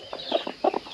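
Broody homestead hens cluck in a short, close burst of several quick throaty clucks, loud and with nothing else over them.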